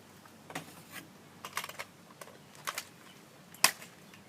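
A sniper rifle's mechanism is worked by hand, producing a few sparse, sharp mechanical clicks and clacks spaced apart, ending in one louder, crisp click as it seats into place, close and with no talking.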